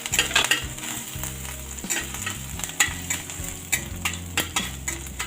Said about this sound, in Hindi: अब हम इसमें डाल देंगे थोड़ा सा अदरक, जो मैंने बारीक बारीक कट कर लिया था।